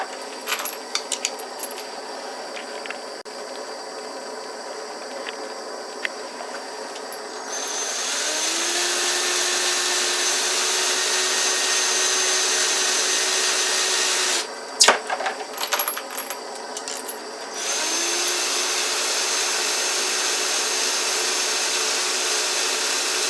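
A steady mechanical whir of a power drill spinning brass rifle cartridge cases runs for long stretches with a faint rattle of tumbling metal, interrupted by a brief pause and some clinks.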